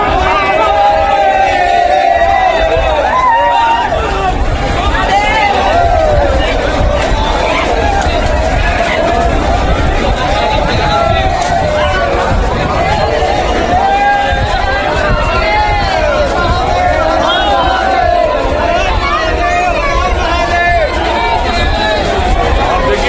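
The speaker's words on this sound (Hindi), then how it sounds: "देखिए सोमनाथ मंदिर की भीड़ देखिए जरा, भक्तों की भीड़, भारी हुजूम।" A dense crowd of devotees surges at Somnath temple, a loud continuous roar of voices and movement filling the scene with shouting and babble throughout.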